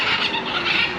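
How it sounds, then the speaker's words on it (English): A caged macaw squawks in a loud, continuous harsh screech lasting about a second, close by on a hilltop in Trinidad and Tobago. "You can hear the macaw that's coming from"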